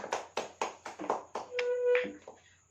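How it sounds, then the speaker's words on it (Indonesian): Classroom applause, a small group clapping in an uneven rhythm of about eight claps, followed by a brief tonal ring and a soft tail. "beri tepuk tangan untuk kita semua"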